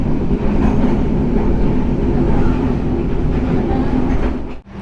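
The Wijayakusuma passenger train rumbles along the rails in East Java in a loud, continuous roar with rhythmic clatter, heard close up from on board, easing slightly at the end as it passes the junction at Bangil station.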